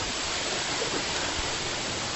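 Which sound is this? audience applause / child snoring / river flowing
river flowing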